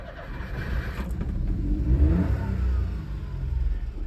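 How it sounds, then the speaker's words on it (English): Daihatsu Hijet mini truck engine revving and pulling away, a steady mid-pitched small-engine drone that swells in the middle and holds, close by with no talking. "So now we're gonna take it for a drive."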